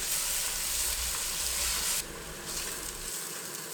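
Onion with ginger, garlic and green chili paste sautéing in a pan for mushroom biryani, a dense close sizzle with stirring scrapes that eases slightly partway through, no voices.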